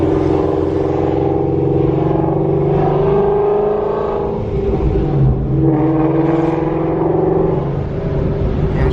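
A widebody, boosted Shelby GT350 Mustang engine revving loud and close, a continuous throaty roar rising and falling across several revs.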